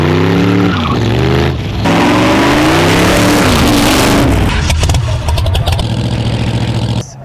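A loud rat rod car engine revs up and down close by, its pitch rising and falling, then settles into a rough, throbbing idle before cutting off.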